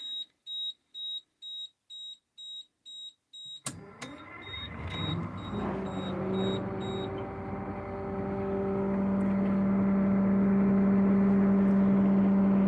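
A 1947 GMC PD 3751 Greyhound Silverside bus starts after a run of evenly spaced electronic beeps, then its engine settles into a steady idle that slowly grows louder and fuller.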